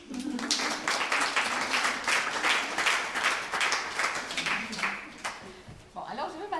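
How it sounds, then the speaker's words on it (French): An audience of children and adults claps after a storytelling session at a museum, with uneven, mid-level applause under overlapping voices and chatter that fades slightly toward the end. "Vous pouvez applaudir."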